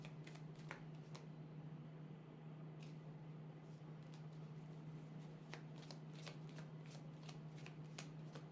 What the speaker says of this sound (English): While I was shuffling this particular deck